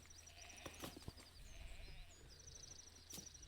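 Sheep bleating on a farm in the video game Foundation, a few soft distant bleats over quiet ambient background and faint clicks, no voices.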